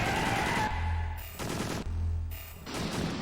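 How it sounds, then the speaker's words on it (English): Gunfire from the video game Extermination, loud bursts of shots in two separated volleys with brief pauses between, each followed by a steady low hum, no talking. "I'm gonna shoot twice, manually reload."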